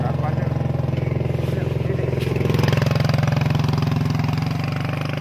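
A motorcycle engine drones steadily close by, labouring uphill with a throbbing low tone that swells slightly as it strains, on the climb to B29 in Lumajang, Indonesia.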